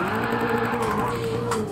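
In the racing game Gran Turismo 7, a car with a blown transmission produces a steady mechanical whine and grinding drone, loud and continuous throughout.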